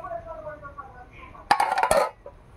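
A metal pot of rice goes onto a home kitchen stove with a sudden clanking scrape and rattle of metal on metal, following someone talking quietly.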